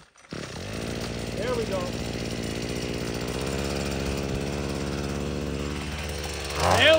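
A weed whacker's small two-stroke engine running on gasoline made from plastic, a steady buzzing drone held close for several seconds before revving up at the end, with a brief spoken remark over it.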